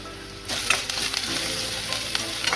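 Chopped onions hit hot tempering oil seasoned with salt and turmeric, giving a steady, close crackling sizzle with small spits and pops after a brief quiet start.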